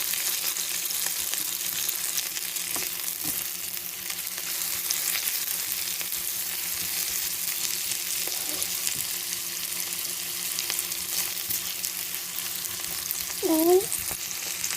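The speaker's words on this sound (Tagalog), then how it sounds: "Isarin na rin natin yung meatballs sa pag-isa." Meatballs fry steadily in a hot pan for pancit, giving a continuous dense sizzle and crackle with a few brief scraping touches near the end.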